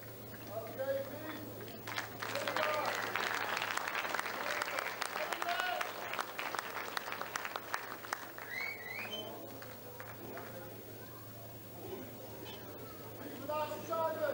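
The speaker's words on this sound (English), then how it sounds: "How about a big round of applause for our winner?" Audience at a bodybuilding contest applauding the women's physique winner, a sustained hall-wide clapping that swells early, eases off midway and picks up again, with voices talking over it.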